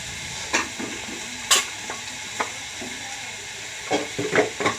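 Ground spices, freshly powdered in a mixer, being dry-roasted for egg tarka: a soft background sizzle broken by scattered sharp scrapes and clinks of a spatula against the pan.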